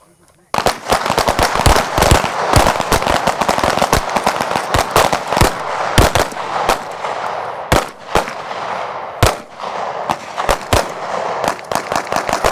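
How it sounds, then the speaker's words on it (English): Pistol shots crack out in rapid irregular bursts on an outdoor shooting range, loud and sharp, dozens of reports overlapping with echoing tails, some nearer and some from farther down the line. "Did you guys just hear those 4 rounds rip from the left side of the range?"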